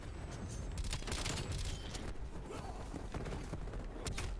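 Gunfire crackles through a video game match as a sniper rifle takes a headshot, set within a dense, continuous burst of shots and explosions that stays loud and busy from start to finish.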